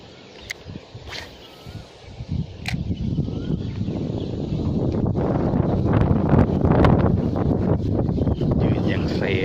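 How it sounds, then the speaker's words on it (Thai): Strong gusty wind buffets the microphone during lure fishing with a spoon lure, a broad rushing roar that builds and stays loud, with brief sharp knocks near the start. "ลมแรงสุดๆครับ"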